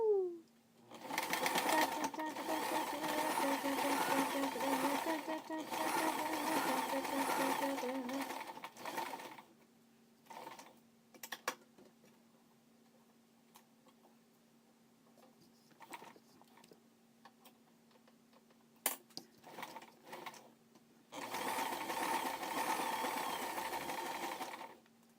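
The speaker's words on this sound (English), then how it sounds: "I sure am sewing Rewind" A sewing machine stitches up close in steady, loud whirring runs, stopping for a quiet stretch with a few clicks and knocks before starting to sew again.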